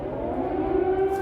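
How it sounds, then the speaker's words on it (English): Air raid siren sounding across Kyiv, a steady sustained wail holding one pitch, loud and continuous with no voices over it. "Air raid sirens blared across the city Saturday morning"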